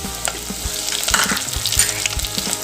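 Sliced shallots, garlic and curry leaves frying with mustard seeds and fenugreek in oil for a Tamil fish curry: a loud, steady sizzle with occasional stirring scrapes and no voices.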